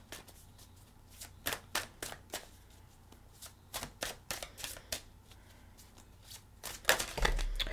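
Tarot cards are shuffled in a quick run of crisp riffling bursts and slaps at close range, ending in a louder flurry as cards are drawn, with no talk.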